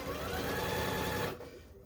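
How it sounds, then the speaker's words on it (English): A sewing machine stitches a quilted table runner, a steady close mechanical whir running for over a second before cutting off into quiet room tone. "So I'm just going to sew this guy on here."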